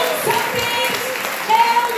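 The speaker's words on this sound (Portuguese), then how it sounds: "Você pode aplaudir esse Deus?" A church congregation at a congress applauds in a steady, dense wash of clapping, with a voice carrying over it throughout.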